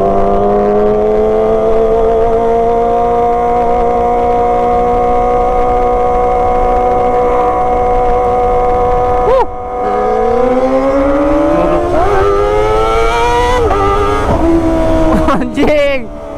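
A big Kawasaki motorcycle engine roars loud and steady while riding, then rises in pitch several times as it revs harder near the end.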